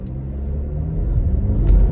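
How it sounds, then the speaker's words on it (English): A turbocharged Ford Explorer accelerates from a green light, a steady loud low engine rumble building and thickening toward the end, heard from inside the car with no talk. "We're just gonna check out how well these turbochargers work here at this green light."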